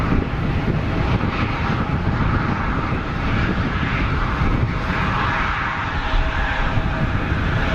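Bombardier Challenger business jet, a Canadair-designed airframe, at Geneva Airport, giving a steady, fairly loud broadband jet roar that holds level throughout, with some wind rumble mixed in.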